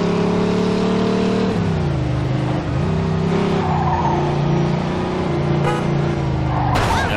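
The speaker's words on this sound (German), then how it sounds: "Glück haben wir ein sportiges Fahrzeug." A sports car in the video game Mafia II drives with a loud, steady engine drone that dips and rises with gear changes, with tire squeal and skidding mixed in, heard alone without talk.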